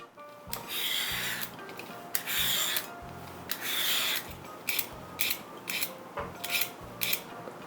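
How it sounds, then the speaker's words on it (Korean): A peeler rasps repeatedly along an old Korean cucumber (nogak), roughly 950 g, in close, loud, rhythmic scraping strokes separated by brief pauses. "필러로 이제 껍질을 벗깁니다"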